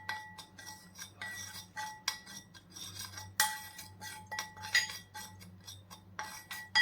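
Flour dough mixed with vibhuti in a bowl, with a metal spoon tapping and scraping against the rim in repeated irregular clinks and rubs, close and fairly quiet, with no talking.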